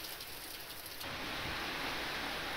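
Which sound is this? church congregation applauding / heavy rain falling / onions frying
heavy rain falling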